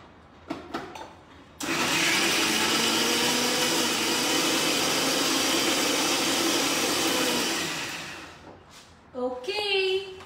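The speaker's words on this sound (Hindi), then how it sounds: "सो गाइज थोड़ी सी आवाज होगी because of the mixer grinder" A mixer grinder blending walnut recipe ingredients whirs loudly and steadily for about seven seconds, starting abruptly and tapering off, with brief talk and kitchen clatter before and after.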